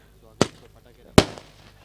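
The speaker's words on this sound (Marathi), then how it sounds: "ही अर्धशतकासाठी हे फटाके होते पिरकोन संघासाठी आणि खास आदेशसाठी." Two sharp firecracker bangs about a second apart mark a half-century at a night cricket match in a Maharashtra tournament, each loud crack ringing briefly over low crowd murmur.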